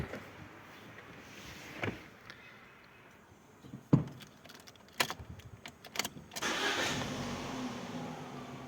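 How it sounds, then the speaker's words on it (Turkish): A car with an injector fault, one that had been puffing black smoke, cranks briefly with keys rattling, then catches and settles into a steady idle that runs on to the end, close by with no talk. "Aracımızı çalıştıralım."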